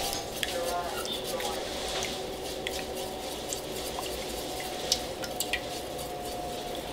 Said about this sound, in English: So we're stirring.